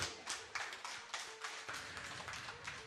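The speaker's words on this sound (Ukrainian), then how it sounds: "оплески для них" Wedding guests at a Ukrainian celebration clap for the newlyweds, with rhythmic, moderately quiet applause and sharp individual claps standing out over a soft room background.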